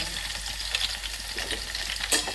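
Garlic cloves sizzling in hot oil in a pan for a tomato chutney tempering, a fairly close, steady crackle and hiss with a few sharper pops near the end.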